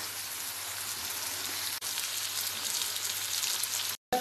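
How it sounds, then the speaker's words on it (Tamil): Goat brain pepper fry gravy simmering in a pan, a steady soft bubbling and sizzling hiss that continues evenly with a brief break near the end, no voices. "நல்லா கொஞ்சம் நேரம் வேகட்டும். அருமையாக கொதிச்சுக்கிட்டு இருக்குது"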